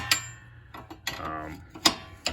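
Milwaukee wrench turned by hand, giving a few brief metallic ratcheting clicks and rattles in an irregular rhythm, close and fairly quiet, with faint mechanical handling between them.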